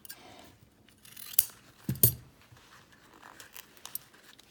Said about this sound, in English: Then on your tails, just fold them in half and cut it going up the ribbon.